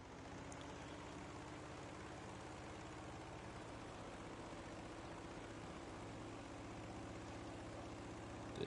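A plane flies in Battlefield V, its engine a steady, dense roar that fills the whole stretch without a break, with a low droning hum underneath and no talking.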